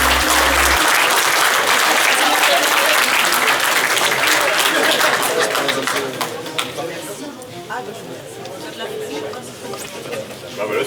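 Audience applause for a prize winner at a motorcycle safety day event in Daumeray, loud and sustained clapping from a crowd, thinning slightly toward the end with some chatter mixed in.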